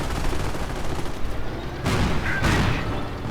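In a WWII strategy video game, tank destroyers open fire on a Panzer force. Loud, dense gunfire and heavy impacts overlap in a continuous battle din, with a sharp surge of blasts partway through.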